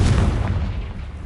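Confringo fire spell exploding in Hogwarts Legacy, a loud booming blast with deep low-end rumble that sustains briefly then tails off, heard alone without speech.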